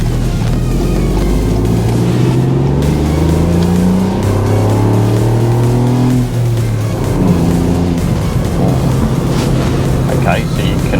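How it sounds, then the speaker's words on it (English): A Ford Fiesta ST with a three-cylinder engine accelerates hard through several gears, a loud raspy drone climbing in pitch with shift breaks between pulls, while someone talks over it from inside the car. "being a 3-cylinder engine, it's got a nice little sort of raspy sort of note to it"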